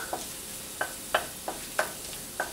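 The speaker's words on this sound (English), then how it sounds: "Add the rest of the garlic into the wok." Garlic stir-fries in a hot wok over medium heat while making noodles: a steady soft sizzle with a regular series of short scraping stir strokes, roughly six in under three seconds, close by with no voices.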